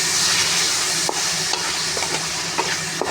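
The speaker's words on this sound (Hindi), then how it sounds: "साथ साथ जो वेजिटेबल भी इसके साथ फ्राई हो जाएंगे" Tomatoes and vegetables frying in a pan for chicken chow mein give a dense, loud, steady sizzle, with a few brief clicks of a utensil against the pan.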